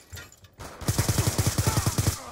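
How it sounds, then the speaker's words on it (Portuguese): A rapid burst of about a dozen evenly spaced automatic gunshots in Black Ops 2, loud and close, following a brief quieter stretch, with no talking over it. "Disparo efetuado!"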